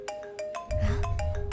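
A mobile phone rings with an incoming call, its electronic ringtone repeating in short bright pulses, and a low rumble of background noise joins partway through.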